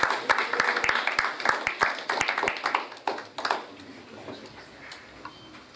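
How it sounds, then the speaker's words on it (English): Scattered applause from a modest audience at a blockchain week event in Perth, Western Australia, welcoming a speaker on stage; sparse, distinct claps that thin out and fade within a few seconds. "Round of applause, please, for Aaron"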